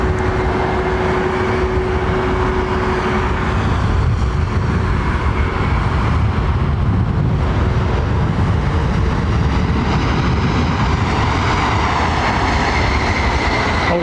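A Dreamliner airliner passes at London Heathrow Airport, a loud, sustained engine roar that swells and rumbles low and broad throughout, close and dominant with no talk over it.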